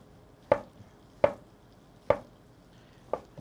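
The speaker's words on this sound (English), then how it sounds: "Now we're going to cut my mushrooms over here. You want to slice them." A knife slicing mushrooms on a cutting board while making chicken Marsala, four separate sharp chops spaced under a second apart, close and clear, with no talking.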